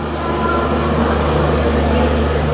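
Inside a moving passenger train bound for Bhubaneswar in Odisha, a loud, steady low rumble and rolling drone continue evenly throughout, with no distinct voices.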